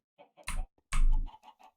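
Chickens in Minecraft, penned together in a crowded enclosure, give a few short clucks, two louder ones standing out among softer scattered calls, close and with no talk.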